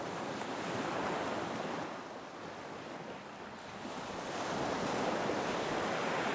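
Ocean waves wash in at night in a continuous roar of surf, swelling, easing briefly and then building again, with wind rushing across the microphone.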